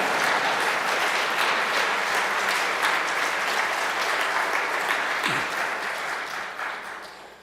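A church congregation applauding at a Christmas Eve service, a full, steady wash of clapping that gradually thins and fades toward the end.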